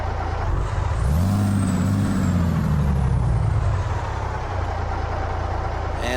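A Peterbilt 389 with a tuned 600-horsepower Detroit Series 60 engine in American Truck Simulator, its diesel drone loud and steady, rising in pitch as it revs up, then easing back down, with a hiss of air near the start.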